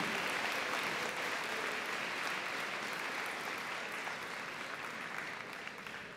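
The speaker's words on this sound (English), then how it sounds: "If we could please give a big round of applause," Dense, steady applause from an audience at a high school senior convocation, sounding faint and distant and tapering slightly toward the end, with no voices over it.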